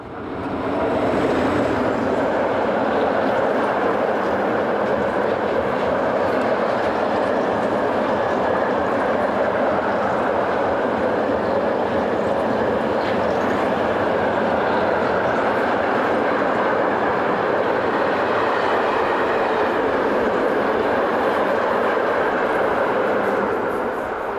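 An ÖBB class 1142 electric locomotive hauling a freight train of cars rumbles steadily past for a long stretch near Linz, Austria, a loud continuous roar of wheels and wagons with no talking.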